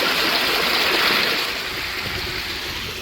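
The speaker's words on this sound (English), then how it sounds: "See the water flowing over here." Water pours steadily through a breach in a patched backyard dam, a close, continuous rushing flow that eases slightly toward the end.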